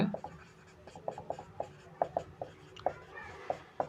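A pen writes a Class 10 maths solution on paper, giving a close run of quick light scratches and taps in an uneven rhythm, with a faint voice underneath.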